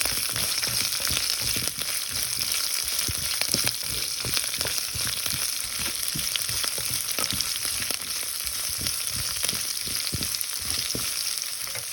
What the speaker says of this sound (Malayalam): നമുക്കിതെല്ലാം കൂടെ നന്നായിട്ടൊന്ന് വഴറ്റിയെടുക്കാതെ